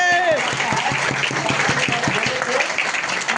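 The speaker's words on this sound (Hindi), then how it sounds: "सर के लिए ताली होना चाहिए, नवल सर के लिए" Audience applause for Naval Sir at a DXN gathering: dense, steady clapping from a crowd, loud and sustained throughout, with voices mixed in underneath.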